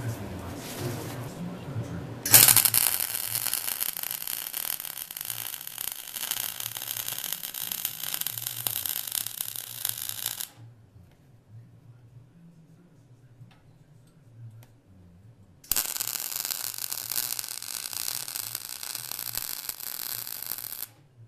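Arc welding on the end of a metal shelf bracket, a dense crackling buzz in two long bursts separated by a quiet pause with faint ambient hum.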